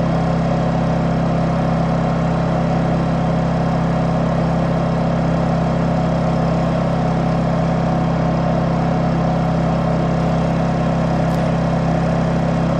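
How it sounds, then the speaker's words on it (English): A Honda EU2200i Bluetooth generator runs at a steady idle, its even, close engine hum holding constant with no speech and no change in pitch or loudness. "So now that the generator is running"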